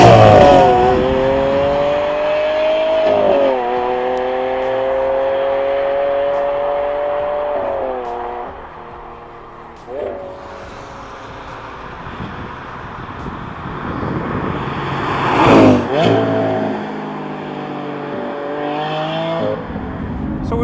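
A Lamborghini Aventador SV accelerating hard, its engine howling up through the revs in rising sweeps, broken by brief dips at gear changes, loud and close inside the moving car.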